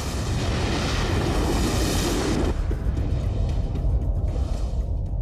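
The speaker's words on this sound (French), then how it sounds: "Une explosion réellement catastrophique venant de l'intérieur." An explosion sound effect: a sustained, dense roaring rumble that fills the low end, loud and continuous, with the bright crackling top thinning out midway as the blast tails off into a heavy drone.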